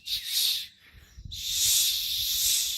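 A voice imitates the rattling buzz of cicadas with two sustained hissing, rasping bursts, split by a short pause. The sound is close and fairly loud.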